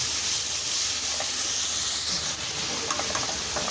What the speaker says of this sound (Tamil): ஒரு 2 நிமிஷம் வதங்கலாம் நல்லா ஹையில் வச்சு